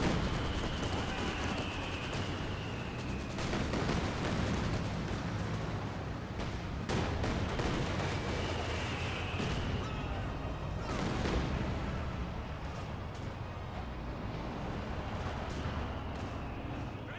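A Katyusha rocket barrage in Company of Heroes 2, dense rolling booms and crackling explosions layered over continuous battlefield gunfire and whistling, sustained throughout with little pause.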